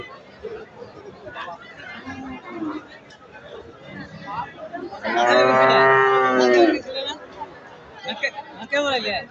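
Amid a cattle market crowd's chatter, a cow lets out one loud, drawn-out moo nearby, then voices continue around it.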